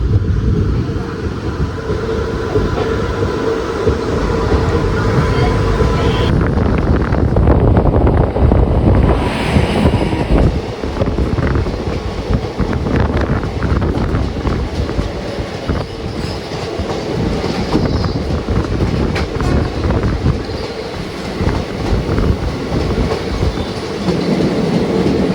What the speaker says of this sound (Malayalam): സ്റ്റേഷൻ വിട്ട് കഴിഞ്ഞിട്ട് ഫുള്ള് ഇഴച്ചില വണ്ടി.